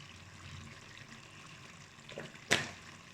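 Hot water splashes into chicken gravy in a pan, a short, sudden pour that rises near the end after quiet kitchen background.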